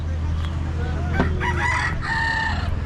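Roosters crow and hens cluck at a roadside shop selling chickens and ducks near Kaziranga in Assam, heard over a steady low hum and market bustle, with a few voices in the background.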